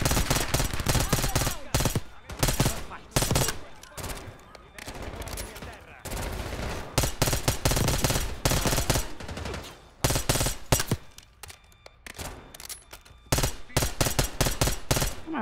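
Rapid gunfire from Call of Duty: Black Ops 6, during a casino heist mission, crackling in dense automatic bursts with short gaps, loud and close throughout, with occasional voice under the shots.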